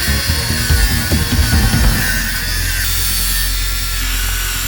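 An angle grinder cuts through a HIPLOK Gold bike lock, a loud, harsh, continuous metallic whine that shifts in pitch partway through as the disc bites into the hardened steel.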